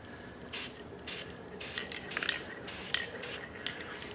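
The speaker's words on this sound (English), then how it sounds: "we want to do a light spray from about, oh, I'd say 2 feet" Light aerosol spray mists onto a rustic wood slice from about two feet away, in six short hissing bursts of under half a second each with brief pauses between, fairly quiet and alone.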